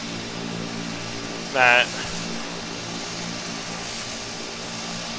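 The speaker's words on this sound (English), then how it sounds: "sounds like the engine's about to die, but it's not." An Embraer EMB-120 propeller engine at full throttle in a flight simulator gives a steady, droning hum with a sputtering quality, broken by a short spoken word partway through.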